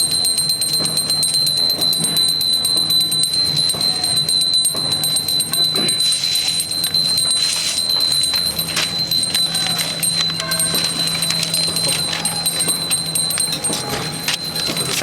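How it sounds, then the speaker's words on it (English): A small hand bell rings continuously during a yajna fire ritual, a bright, rapid, unbroken jingling that carries close and fairly loud for about fifteen seconds with no talking. "you can have your assistant ring the bell"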